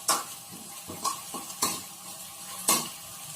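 Kerisi fish sambal stirred in a pan over medium heat, with a soft steady sizzle broken by four or five distinct scraping stir strokes of a utensil against the pan.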